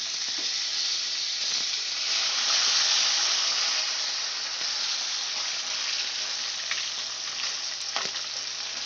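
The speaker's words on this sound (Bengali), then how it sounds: "আমার মাছগুলো পিঠ ভাজা হয়ে গেছে এবার আমি এক এক করে উল্টে দিয়ে এই পিঠটাও লাল করে" Catla fish pieces frying in oil in a pan for a catla posto dish, giving a steady, loud, close sizzle with a few faint clicks as the fish is turned.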